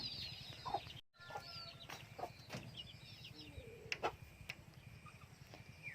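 A flock of domestic farmyard chickens clucks and murmurs while being fed, with scattered short calls and a few sharper clucks over low rustling, after a brief silent gap.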